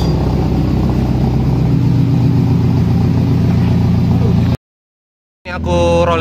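Toyota Vios 2014 with a 1NZ-FE engine and racing camshaft revs hard in first gear, a loud sustained engine roar that cuts out abruptly near the end before surging back.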